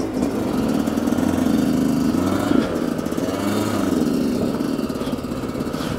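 Enduro motorcycle engines run at a steady low idle nearby, a continuous rumbling drone with no talking.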